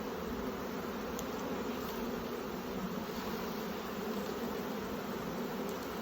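Steady, dense buzzing of a honey bee colony around an open nuc hive in late summer as frames are shaken off, a continuous close drone with no talking.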